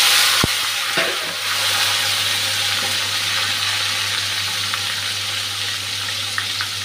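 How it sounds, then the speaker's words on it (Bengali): Potatoes with salt and turmeric frying in a pan, a steady broad sizzle running close and continuous throughout, with a sharp clack near the start and a few soft stirring scrapes. "এখন আলুটা লাল লাল করে ভেজে নিচ্ছি"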